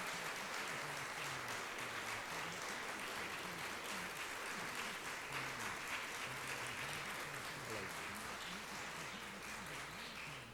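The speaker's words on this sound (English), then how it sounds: "Give her a big round of applause." Sustained applause at a 1997 awards ceremony as an honoree is called up, dense clapping from a large audience holding steady and loud, with a faint low hum running beneath it.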